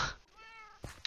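A single short cat meow in a video game, close and clear, followed by a couple of faint clicks.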